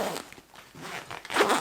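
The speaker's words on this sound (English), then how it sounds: "So just at the bottom here, you've also got these two zips which open up," Zips at the bottom of a Lowe Alpine Cerro Torre 65:85 backpack opening the bottom entry, a brief close rasping zip sound that swells toward the end, with no talk.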